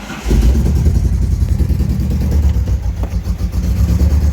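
An Opel C20NE four-cylinder petrol engine running rough on a cold start, misfiring: a loud, close, lumpy idle with an uneven pulsing rhythm and mechanical clatter throughout.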